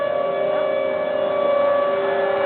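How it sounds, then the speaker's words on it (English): Outdoor severe storm warning sirens sounding across St. Paul, a loud sustained steady wail holding its pitch throughout. "so now we have sirens here in St. Paul"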